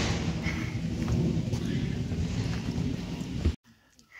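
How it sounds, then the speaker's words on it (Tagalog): Steady rain falls outside a yurt at Pigeon Lake Provincial Park, a continuous hiss with low rumbling and wind buffeting, fairly loud, then cutting off abruptly near the end. "Maulan ngayong araw."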